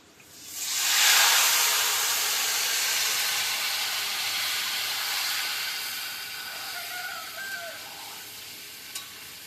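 Bombay duck fish slide into hot mustard oil and set off a sudden loud, steamy sizzle that peaks within a second, then settles into a steady hiss that fades slowly, with a few faint pops near the end.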